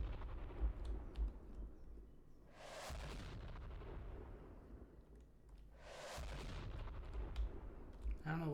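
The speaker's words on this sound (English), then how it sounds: "I don't know what's exploding" Two heavy booming explosions in the Security Booth video game roll out a few seconds apart, each followed by a low rumble that decays into quieter background noise.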